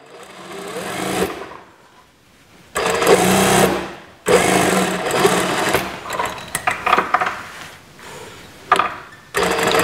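Sewing machine running in bursts while stitching the corner of a pair of elastic-waist shorts, a loud rapid whir starting and stopping several times with short pauses between runs, no talking.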